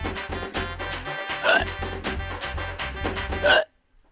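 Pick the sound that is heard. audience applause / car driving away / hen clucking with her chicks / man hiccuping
man hiccuping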